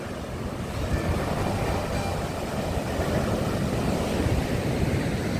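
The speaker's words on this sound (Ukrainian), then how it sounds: "Оце ти хвилюєшся, а я казала, немає шторму, Расті." Rough Black Sea waves breaking along the shore at Odesa, a steady, dense roar of surf with wind, continuous and fairly loud throughout with no voices.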